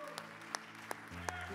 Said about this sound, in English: Let's give the Lord a hand clap of praise and just thank him.